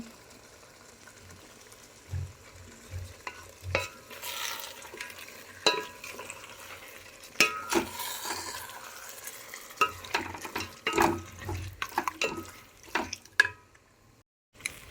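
Chicken pieces for a tender-coconut chicken curry sizzle in a pan while a spoon scrapes and stirs in irregular bursts, close by, with quieter frying between.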